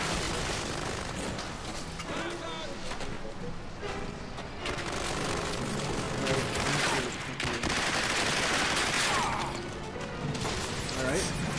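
Muffled gunfire and impacts in the World War II shooter Turning Point: Fall of Liberty, a steady busy clatter of shots and crashes running under people talking throughout.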